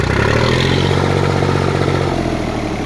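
An overhauled tractor engine runs steadily at idle, a loud, close, continuous diesel rumble and clatter with no pauses and no talk.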